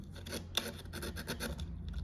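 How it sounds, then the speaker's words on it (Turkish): Sandpaper rasping over the oxidized terminal of an old motorcycle battery during a Yamaha MT-25 battery swap, a steady close scratching in short repeated strokes with nobody talking. "Kutup başına temas edecek olan kısmını zımparalıyorum."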